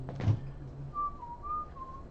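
A person whistles a short tune in a few sustained, clear notes, fairly soft and close, with a brief soft noise at the start.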